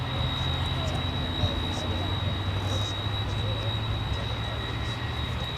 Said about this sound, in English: this is UPS Flight 5510 coming in from Louisville, Kentucky. It's an MD-11